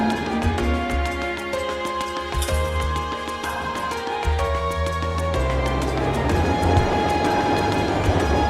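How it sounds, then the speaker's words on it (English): An eastbound tram in the video game Trails of Cold Steel pulls away, its loud rumble and rhythmic rail clatter running throughout under shifting musical tones, with no talking. "This eastbound Opel tram will be departing momentarily."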